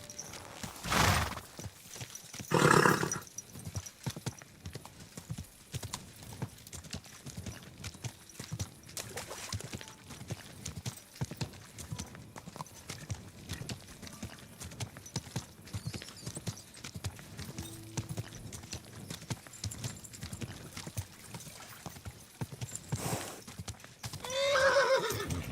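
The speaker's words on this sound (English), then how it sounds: "Easy, good horse." A horse in the medieval video game Kingdom Come: Deliverance II, with loud whinnies at the start and end and steady clip-clop hoofbeats in between, set against faint ambient background.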